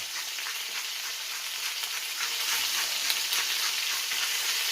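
Organic cornfed chicken legs fry in a pan, a steady crackling sizzle that grows slightly louder partway through, close and continuous with no speech.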